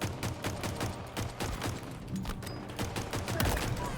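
Gunfire in the video game Halo Infinite: dense, continuous volleys of shots and impacts fill the whole stretch at steady loudness, with no voices.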